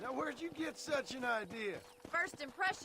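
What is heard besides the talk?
No distinct noise like a dog, phone or traffic.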